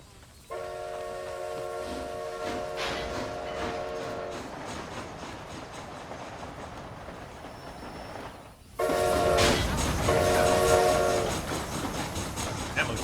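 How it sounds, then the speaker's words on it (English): Train running in the video game Red Dead Redemption: Undead Nightmare, a steady rumbling clatter of wheels on track with a loud horn blast at the start and another later as the rumble grows louder. "This train headed for Mexico?"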